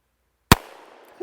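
A single sharp shot of a .38 round from a Henry Big Boy revolver, loud and close, with a short decaying ring-out and a faint knock just after.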